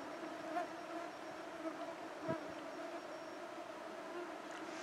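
Faint, steady insect buzzing drifts over a calm arctic tundra lake at night, a soft continuous drone with a couple of brief louder passes close by.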